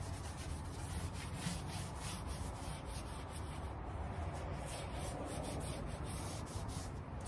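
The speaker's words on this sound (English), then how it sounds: "Let that sit down in there, in the cracks, wipe most of it off." Dark wax being wiped and rubbed off crackle chalk-painted wood for an old-world finish, a steady close soft rubbing and scuffing that continues evenly without pause.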